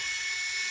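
Continuous high-pitched whine of the small electric motor of an 18V PVC pipe cutter running steadily, close and loud, with no voices.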